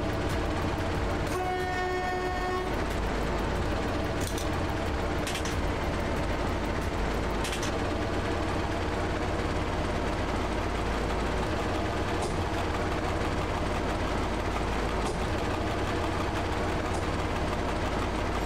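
A train runs while shunting in the video game Train Driver 2, with a steady loud rumbling engine and rail drone throughout and a brief horn-like tone early on, with no talk over it.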